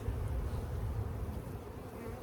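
Honey bees swarm around an opened hive during a split, producing a constant, moderately faint low buzzing drone with no other sounds.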